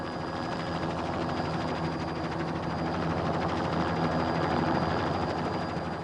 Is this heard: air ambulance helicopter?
yes